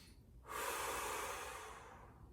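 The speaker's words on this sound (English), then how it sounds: "You can hear a forceful inhale and a forceful exhale." One forceful breath taken during a mobility stretch, a sudden loud rush of air close to the mic that holds for over a second and slowly tapers off.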